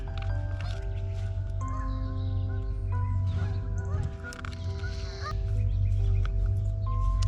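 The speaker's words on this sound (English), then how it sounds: "Those are the Canadian geese." Canada geese honk repeatedly at a distance, overlapping calls over steady background noise.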